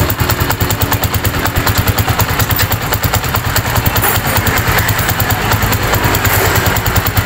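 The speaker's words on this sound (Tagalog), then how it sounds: "Maganda yung tambutso niya pare ah, maganda tulog pare ah." A Honda TMX motorcycle idles with a newly fitted exhaust, a loud, close, rapid and steady putter that runs evenly throughout without pause.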